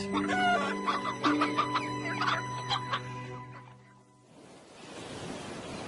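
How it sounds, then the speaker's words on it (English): Several cartoon chickens cluck and squawk close by in irregular bursts, then fall quiet, leaving a soft rushing background like distant surf. "noisy chickens"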